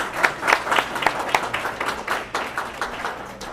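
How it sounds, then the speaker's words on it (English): A crowd claps for Paul Irving, a juvenile prosecutor running for Monroe County Court Judge, at a public service event; moderately close applause with distinct individual claps standing out in an uneven rhythm. "Please give a round of applause for Mr."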